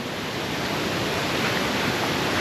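A white waterfall in the dense Tamhini Ghat forest roars with a steady, broad, hissing rush of falling water, loud and unbroken throughout, with no voices.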